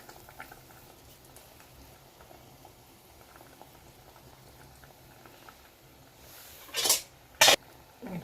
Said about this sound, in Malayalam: നന്നായിട്ട് വെട്ടി തിളച്ച് വന്നിട്ടുണ്ട്